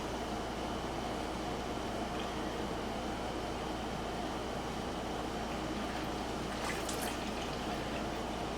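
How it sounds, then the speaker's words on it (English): Homemade vinegar weed killer is poured into a small spray bottle, a steady liquid fill with faint dripping and splashing under a constant background hum. "we're going to pour some into the little spray bottle"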